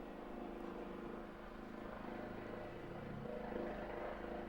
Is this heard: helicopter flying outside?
yes